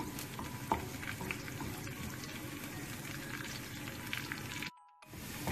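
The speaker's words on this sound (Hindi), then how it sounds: "उसमें प्याज ऐड किया है, तो ये हमारा तड़का रेडी हो रहा है।" Steady soft sizzling and crackling of onions frying in hot ghee, fairly quiet, with a short silent gap near the end.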